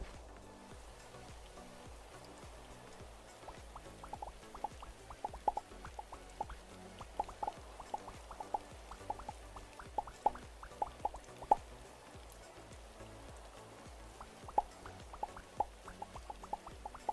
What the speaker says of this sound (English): I hear rain, so it still thinks I'm technically above ground.